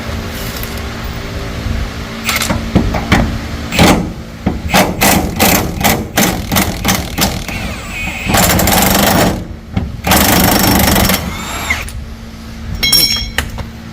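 A power tool with a socket drives bolts on the rear subframe supports of a Nissan 350Z drift car, rattling in loud repeated bursts of varying length, close by.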